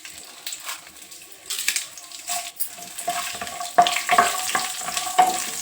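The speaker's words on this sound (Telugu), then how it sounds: "స్పూన్ నూనె వేసుకొని 1 టేబుల్ స్పూన్ పల్లీలు వేసుకొని ఫ్రై చేసుకోవాలి" Peanuts, cumin and red chillies fry in hot oil for a ravva dosa, giving a light, crackling sizzle with irregular stirring clatters and small pops, close and fairly quiet.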